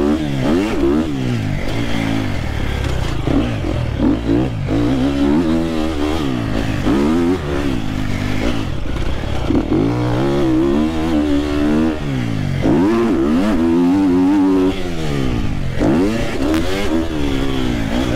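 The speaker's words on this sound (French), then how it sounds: "C'est parti pour quelques tours au guidon de cette moto." A Triumph TF 250-X motorcycle in full-power trim laps a circuit, its single-cylinder engine revving up and down in repeated acceleration and deceleration cycles, loud and close, with occasional clattering and no talk.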